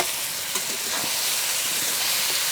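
Chopped cabbage frying in a pan as prawn momo filling, a steady close hiss and sizzle that runs evenly throughout with faint scraping stirs.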